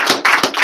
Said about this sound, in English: So let's give Eddie a round of applause.